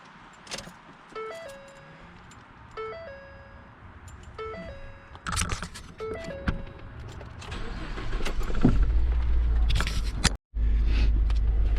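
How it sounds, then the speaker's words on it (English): A car engine cranks and catches around the eighth second after a few electronic chimes, then settles into a low steady idle with blower noise, heard up close inside the cabin. "let's start the car."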